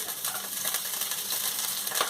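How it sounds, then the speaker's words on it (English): Steady crackling sizzle of sausages frying in a pan, continuous and fairly close, with faint clinks and no talking. "You can almost certainly hear them sizzling."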